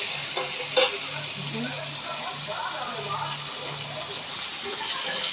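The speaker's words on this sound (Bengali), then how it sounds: "ওই একই তেলের মধ্যেই বেগুনটাকে ভেজে নিচ্ছি।" Eggplant fries in oil in a kadai, a continuous bright sizzle with a few sharp spits and some stirring, while a low hum and faint speech run underneath.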